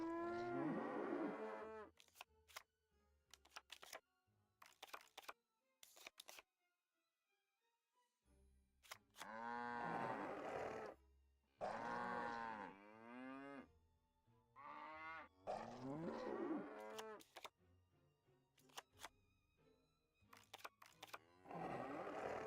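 Cows moo repeatedly in the Nancy Drew game The Captive Curse. The long, loud, drawn-out calls come in separate bursts with short silent gaps between them, alone and close.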